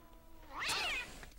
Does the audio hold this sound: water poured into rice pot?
no